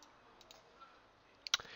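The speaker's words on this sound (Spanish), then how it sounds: "le voy a hacer doble clic" A computer mouse gives a crisp double click near the end, two quick sharp clicks close together after a few faint ticks, close and clear over a quiet room.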